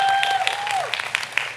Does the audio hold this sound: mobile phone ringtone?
no